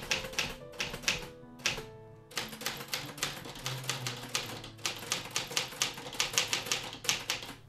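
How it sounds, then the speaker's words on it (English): Keys strike a typewriter in quick bursts of sharp clacks, with short pauses between runs and occasional heavier thunks, close and alone. "I started making drawings with the letters on the typewriter"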